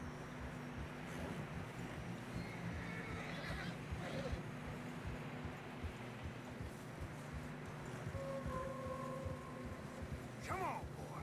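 Horse whinnying while trudging through deep fresh snow in the Red Dead Redemption 2 video game, a faint neigh rising over steady wind and low rumbling ambience, with no talking.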